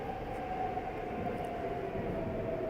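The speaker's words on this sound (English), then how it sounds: "aside from the constant interruptions by the train" Steady train rumble with a sustained tonal hum running continuously and fairly loud throughout, heard alone with no talking, as rail cars pass by close at hand.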